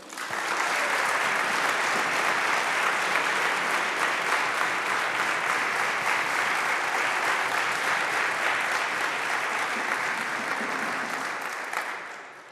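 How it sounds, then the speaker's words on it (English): Sustained, evenly dense applause from a college chapel audience welcoming a speaker, loud and steady for about eleven seconds before tapering off at the end. "Let's give a warm welcome to Allison"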